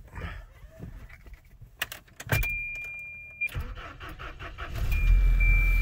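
A stock 1992 Volvo 240 starts up: keys jingle and a door chime sounds, then a short starter crank catches into a steady engine idle, close by, with no talk.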